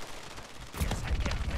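Call of Duty Warzone gunfire, a short loud burst of rapid close shots cutting in after a quiet moment.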